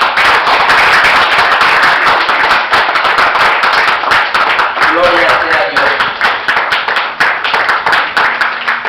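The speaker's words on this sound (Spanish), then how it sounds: "Brinden un aplauso al Señor." Church congregation applauding during a Spanish-language sermon, a dense, loud burst of clapping that runs throughout while a voice speaks over it.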